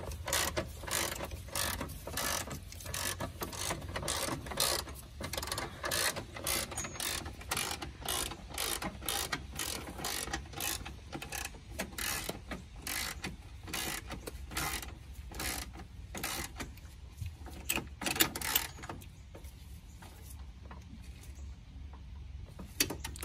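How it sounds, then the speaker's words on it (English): Steady ratcheting clicks from a hand ratchet tightening the rear shock mount bolts on a Mini, a fast continuous rhythm of close, crisp metallic ticks that thins out near the end. "Are you just hand tightening these, or are you gonna torque them down?"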